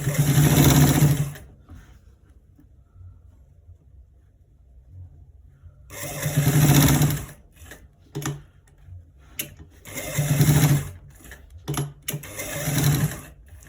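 A sewing machine stitches a trouser left front pocket in several distinct bursts, a long run, a pause, then quick stop-start runs, each a fast rhythmic chatter heard close up with near silence between.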